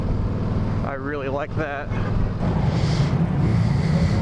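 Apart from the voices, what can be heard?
riding a Yamaha V-Star 1300 Deluxe motorcycle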